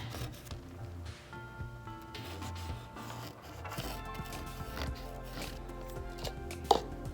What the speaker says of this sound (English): it's really cool to see the bright colors pop through the black paint as you scratch it away